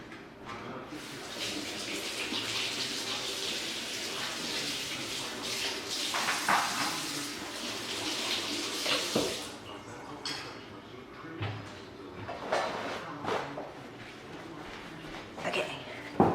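Tap water runs in a steady broadband rush while freshly dipped nails are rinsed, flowing continuously for about nine seconds before breaking into scattered splashes and drips with faint movement noise.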